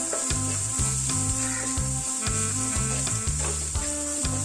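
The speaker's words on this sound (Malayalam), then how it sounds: "അര ടീസ്പൂൺ മുളക് പൊടി അര ടീസ്പൂൺ കുരുമുളക് പൊടി കാൽ ടീസ്പൂൺ ഗരം മസാല ഇത്രയും നമുക്കൊന്ന് ഇളക്കി യോജിപ്പിച്ച് കൊടുക്കാം" Chilli powder, pepper powder and garam masala stirred together in a hot pan, a constant sizzle with rhythmic stirring strokes and a steady tonal hum beneath throughout.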